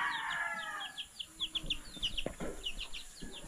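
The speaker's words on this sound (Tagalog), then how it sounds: "Ay, mga manok na ewa pa yung mga kaon." Chickens cluck and call amid a busy outdoor background, with short chirpy notes scattered throughout at moderate distance.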